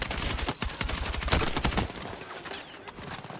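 Rapid carbine fire in Battlefield 6 rattles off in dense, loud bursts for nearly two seconds, then thins into scattered, fainter shots and background game sounds.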